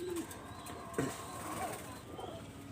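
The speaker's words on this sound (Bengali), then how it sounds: "এখানে দুই পিস কবুতর আমি দেখাচ্ছি" Teddy Golden pigeons coo softly in low, rolling calls, with a few faint chirps and some background noise around them.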